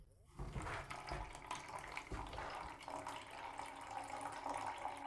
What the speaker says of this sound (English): The first sound of water is flowing from here.